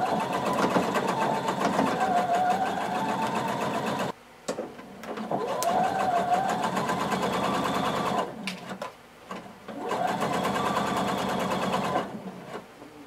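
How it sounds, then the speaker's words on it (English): A sewing machine stitches all the way around a blazer pocket in steady, fast runs of whirring. It stops briefly twice and restarts each time. The sound is close and clear, with no talking. "we're going to sew all the way around, closing our pocket."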